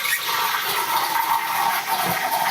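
A coffee machine's steam wand heats milk in a jug, giving a loud, steady hissing roar with a slight bubbling rush and no speech.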